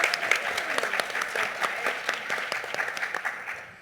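Audience applause at a mental health symposium, many hands clapping steadily for nearly four seconds, moderately loud and slowly tapering, with no talk over it.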